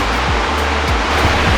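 River water flows steadily beside a beer garden in Munich, a broad continuous rushing wash close by with no voices.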